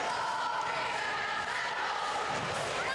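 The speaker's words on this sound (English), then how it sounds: "Cheer again, loud here, hoping she misses those." Basketball crowd at a girls' high school game cheering loudly during free throws, a sustained roar of many voices with shrill yelling and whoops, steady and close throughout.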